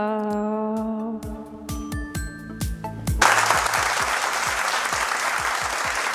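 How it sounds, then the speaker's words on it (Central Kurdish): A studio audience breaks into loud, sustained clapping that cuts in suddenly after a run of bright chiming and plinking musical tones, then carries on evenly to the end. "چەپڵەکانتان ئامادە کردو"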